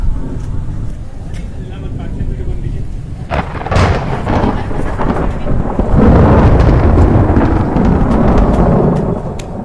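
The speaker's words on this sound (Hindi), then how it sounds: "इस समय मेरे पीछे ठंडा स्टॉर्म आ रहा है" Thunderstorm with rumbling thunder, heavy wind gusts and rain, loud and continuous; someone talks over the storm throughout, and the roar builds in the second half.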